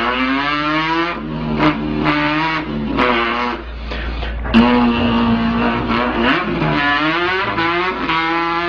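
A voice imitates a car engine revving with the mouth, a buzzy, distorted drone rising and falling in repeated pitch sweeps like gear changes, loud and close throughout.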